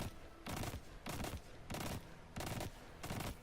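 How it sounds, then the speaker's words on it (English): Right Side of Wrong pulse-style gun in Destiny fired repeatedly, five evenly spaced loud bursts of rapid shots with short gaps between them, close and alone. "I'm going to just pull down the trigger over and over again"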